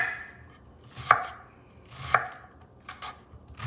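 A knife chopping an onion on a board, a few sparse distinct cuts about a second apart in a quiet kitchen, no talk.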